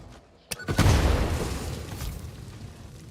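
An explosion goes off in the factory-building video game Satisfactory 1.2, a sharp crack followed by a heavy booming blast that rolls and slowly fades over a few seconds, with no talk.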